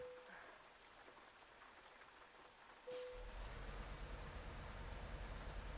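In-game rain in Euro Truck Simulator 2 during a truck drive: faint, steady hiss of falling rain, soon joined by a low rumble that swells partway through and continues under the rain.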